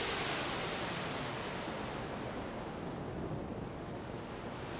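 Broad wash of noise from a pin matrix analog synthesizer imitating ocean surf, swelling then slowly softening, steady and alone with no voices.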